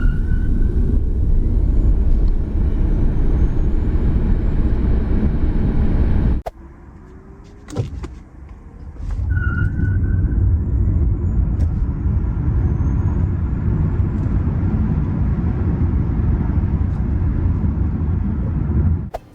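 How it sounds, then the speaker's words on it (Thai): A BYD Han EV electric car, a 2022 model, launches hard from 0 to 100 km/h, with a steady whine and rushing road and wind noise that briefly drops away mid-run and then builds again, with no talking. "ผมก็ทำการทดสอบอัตราเร่งนะครับจาก 0 ถึง 100 กิโลเมตรต่อชั่วโมง"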